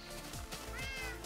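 Cat meowing in the video game Minecraft, a single close, clear meow lasting about a second.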